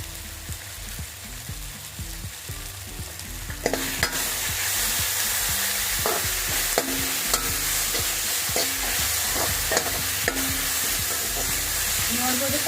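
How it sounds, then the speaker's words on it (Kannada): Tomatoes fry for sambar in a pan with a continuous sizzle that grows louder partway through, while a spoon scrapes and stirs in frequent short clinks. "ಟೊಮೊಟೊ ಸಾಫ್ಟ್ ಆಗೋವರೆಗೆ ಫ್ರೈ ಮಾಡೋಣ."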